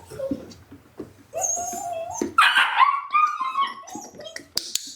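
A young puppy whimpers and yips in a run of rising, squeaky cries during a lure-training session, with a brief bark near the end, all close and fairly loud with no talking over it.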